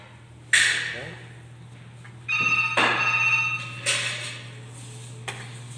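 A telephone rings in a large kitchen while chicken is being prepared for grilling, several electronic ring bursts in a row over a steady low hum, fairly close and clear with no talk over them.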